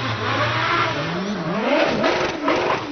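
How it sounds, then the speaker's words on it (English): An Empire Evo race car powers up a British hillclimb course, its engine revving hard and climbing through the gears in one loud, continuous, close-up acceleration. "Up comes the Empire Evo of Ben Stephenson."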